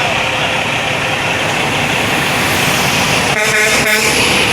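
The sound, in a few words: Kenworth W900 truck with Cat C13 engine and poor muffler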